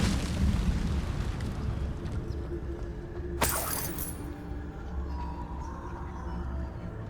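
The Incendio fire spell cast in Hogwarts Legacy: a single bright, crackling burst with a shattering, explosive edge, close and loud, rising over a rumbling game ambience and fading quickly.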